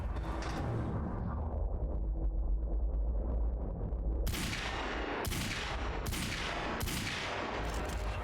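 Gunfire in the video game Quantum Break, with a rumbling background giving way to several sharp, loud shots in a short irregular series over the second half.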